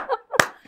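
Two sharp hand claps spaced apart, close and distinct, with a brief voice sound before them.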